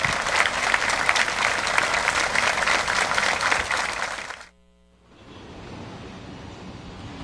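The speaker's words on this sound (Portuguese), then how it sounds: "No adeus doloroso ao músico, não faltaram aplausos." Mourners at a musician's funeral break into loud, sustained applause that cuts off abruptly, leaving quiet outdoor ambience behind.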